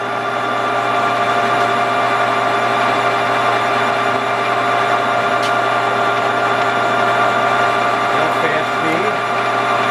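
Kingston HJ-1100 17 by 43 inch metal lathe spindle spinning at 950 RPM in high range, a steady loud mechanical whine and hum with fixed tonal lines, unchanging throughout.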